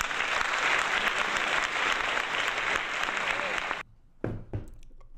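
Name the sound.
applause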